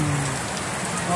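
Rain falls steadily onto surfaces during a power outage in a rural sitio, a dense continuous patter heard up close with no break.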